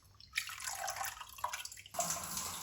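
Cauliflower is rinsed in plain water in a basin, giving soft, close sloshing and dripping splashes in a few uneven bursts, fairly quiet with no talking.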